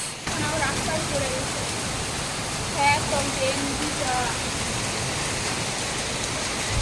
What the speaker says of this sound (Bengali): এখন ফোঁটা ফোঁটা জল পড়ে